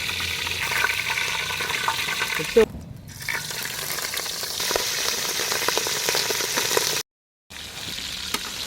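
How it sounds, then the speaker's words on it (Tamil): White rat pieces deep-frying in hot oil with turmeric make a steady, dense sizzle with crackling pops. The sizzle dips briefly midway, then cuts out completely for a moment before resuming. "பார்த்திங்கன்னா சூப்பராக பொரிஞ்சிச்சு எலி"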